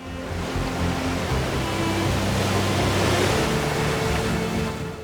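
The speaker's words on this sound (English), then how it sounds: "the sounds of the forest are almost drowned out by the roar of the falls" A steady, dense roar of a waterfall in a Philippine forest fills the air continuously, loud and unbroken, with no voices.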